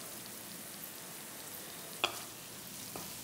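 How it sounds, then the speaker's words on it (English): Turmeric, coriander, chili and cumin powders cook in oil over a low flame in a ridge gourd sabzi, a soft steady frying sizzle with one brief clink of a utensil partway through and a fainter knock near the end. "Let the spices cook on low flame for a minute."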